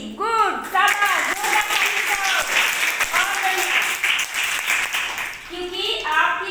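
An audience claps loudly for a child contestant on a kids' quiz show, sustained applause running throughout while a host talks over it.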